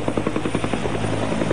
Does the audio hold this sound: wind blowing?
no